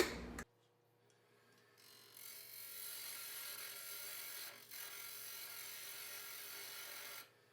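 Wood lathe turning down a workpiece, a steady whirring machine drone with a high, hissing cutting edge that rises after a short quiet start and holds, briefly dipping, before fading at the end.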